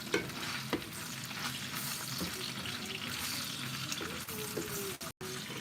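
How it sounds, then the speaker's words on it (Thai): Kebab fries in a pan with a continuous sizzle and faint stirring or scraping, plus a few soft clinks and a short dropout near the end, with no voices over it. "กำลังทอดเคบับ"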